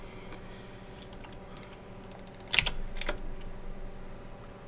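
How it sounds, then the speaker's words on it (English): A computer keyboard clacks with a short cluster of quick, light key presses, a few sharper clicks standing out near the end against a quiet background hum. "Let me type this in."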